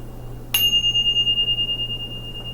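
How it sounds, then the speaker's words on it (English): A single bell is struck once, ringing out with a bright, clear tone that sustains and slowly fades over about two seconds, heard alone against a low steady background hum. "We're getting ready to ring the bell, clear out the energy"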